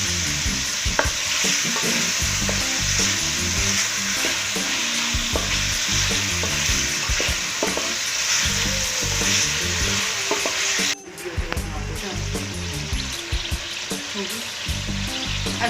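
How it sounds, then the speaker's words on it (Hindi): Chicken pieces sizzle and crackle steadily in a hot pan while being stirred, a loud, continuous fry close up with a brief break near the end before the sizzling resumes; no talking. "अच्छा, चिकन को हमने फ्राई कर लिया"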